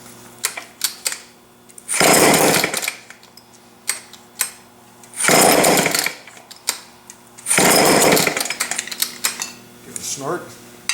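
Close, loud attempts to cold start a Homelite chainsaw: three harsh rasping bursts of cranking and sputtering, each about a second long, with short pauses and scattered clicks between them. The engine never settles into steady running.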